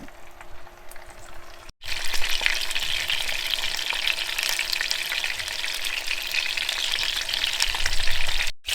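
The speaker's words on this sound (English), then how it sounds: "we're just sizzling away to brown the skin evenly on all sides" Steady loud sizzling of chicken frying in a hot pan, with a brief cut near the start and occasional stirring noises, no talking.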